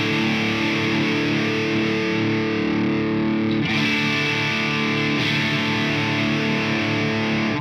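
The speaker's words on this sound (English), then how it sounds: "You will notice that even if you turn the distortion knob all the way down, it is still crunching a little bit." An electric guitar plays through a Boss DS-1W distortion pedal with the distortion knob turned all the way down, giving a loud, sustained, lightly crunchy tone with chords ringing continuously and no talking.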